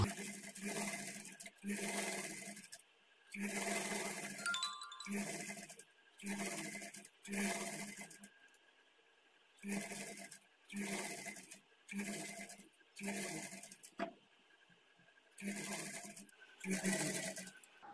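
A sewing machine stitches a plain blouse shoulder seam in short repeated bursts of whirring with brief pauses between them, close and fairly quiet, no talking.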